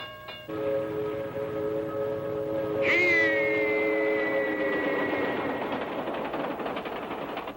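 A train horn sounds in a children's show segment: steady tonal horn chords enter after a beat and hold, then a higher rising whistle-like blast joins near the middle and sustains over a rumbling, continuous background.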